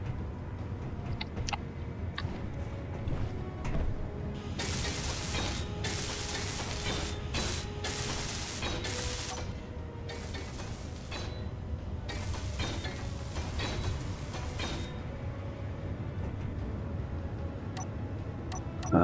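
Welding in Space Engineers, a loud continuous buzzing, crackling tool noise that swells and cuts out in bursts over a mechanical ticking hum.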